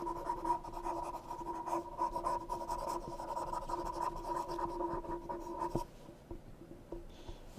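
An eraser rubs writing off a classroom board in quick, scratchy back-and-forth strokes, fairly quiet and close, running steadily for several seconds before stopping.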